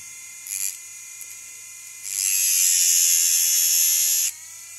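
A homemade Dremel-style rotary tool sharpens a bit with a thin, high electric whine, first two short bursts and then a sustained two-second grind close to the mic.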